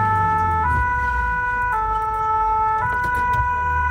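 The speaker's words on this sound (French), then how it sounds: "La sirène retentit." A fire engine siren sounds loud and close in the French village of Éclaron, its two-tone wail switching pitch steadily at regular intervals over a low engine rumble.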